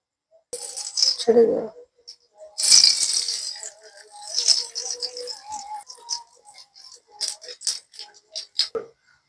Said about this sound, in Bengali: ফোড়নের জন্য সরিষা দিয়ে দেবো